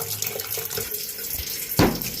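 Water runs from an open sink tap as a home plumbing system drains before a leaking hose spigot is replaced, giving a steady splashing rush with a brief louder gush near the end.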